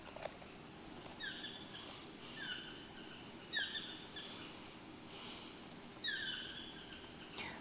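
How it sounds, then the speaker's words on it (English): A bird calls in short repeated croaking phrases at intervals, fairly distant over a steady hiss of insects and soft outdoor ambience. "That is a toucan."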